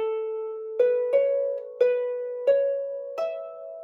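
A harp plays a short phrase of the Scottish tune Wha Saw the 42nd, with five or six plucked notes ringing clearly and decaying between plucks, solo and close, with no voices.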